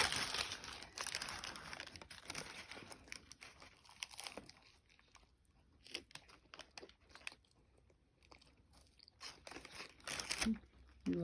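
A child eating a Taco Bell crunchy taco up close, with irregular crunching and crinkling bites over quiet background, and faint talk at times.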